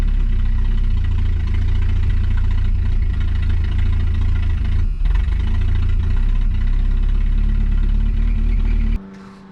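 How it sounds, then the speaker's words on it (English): Clean classic barn-find car with a two-barrel carburettor idling roughly, a steady close low rumble with faint knocking that runs for most of the stretch before the engine noise suddenly drops away near the end. "It's idling."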